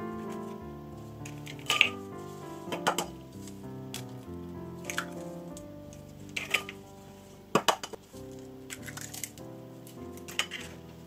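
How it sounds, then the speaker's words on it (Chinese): Room-temperature eggs, four of them, whisked gently in a mixing bowl for pudding, with light clinking strikes of the whisk against the bowl at irregular intervals over soft background music, fairly close and moderate in level. "用打蛋器轻轻的将蛋打散，再轻轻的搅打均匀"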